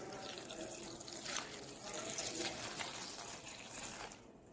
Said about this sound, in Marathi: साधारण ही फुलं बुडतील एवढं पाणी आपण त्यात घालायचं आहे